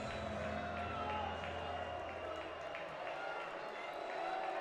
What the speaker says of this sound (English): Ball State crowd making some noise here at Ball State's 40-yard line.